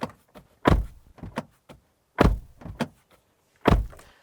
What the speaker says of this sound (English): That's what the door slam sounds like.